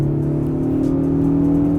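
A 2013-2018 Ford Focus ST with a Ford Performance stainless steel cat-back exhaust holds a steady, droning rev close by, its low humming tone staying loud and even throughout.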